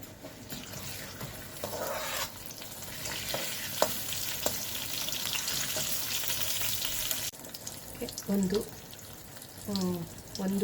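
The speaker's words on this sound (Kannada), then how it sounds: "1 ಟೀ ಸ್ಪೂನು ಸೋಂಫ್ ಮತ್ತು ಒಂದು 1/4 ಟೀ ಸ್ಪೂನ್ ಇಂಗು ಇದನ್ನು ಹಾಕ್ಕೊಂಡು ಇದನ್ನು ಕಾದಿರೋ ತುಪ್ಪಕ್ಕೆ ಹಾಕಿ" Fennel seeds and asafoetida dropped into hot ghee for a sweet-sour pumpkin curry, giving a continuous close crackling sizzle that quiets toward the end, with a few clinks and soft movement after it.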